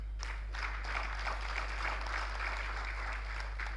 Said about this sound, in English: Please, a better round of applause.